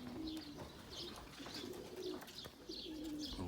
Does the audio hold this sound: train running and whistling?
no